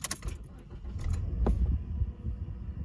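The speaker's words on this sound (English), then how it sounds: "to turn it on, you have to put your foot on the clutch all the way down and turn it on just like a normal car" A manual-transmission car is started with the clutch pressed fully down: keys jangle, the starter turns and the engine catches into a close, low idling rumble.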